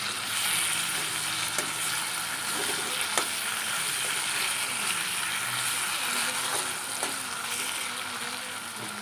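Local free-range chicken fries in a pan Assamese style, a steady close sizzle running throughout with occasional scraping clicks from stirring.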